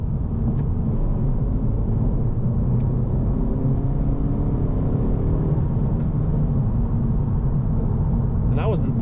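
A 2021 Honda Civic Hatchback Sport with a manual transmission is driven hard, its engine a continuous low rumble of road and cabin noise that stays steady throughout while someone talks over it.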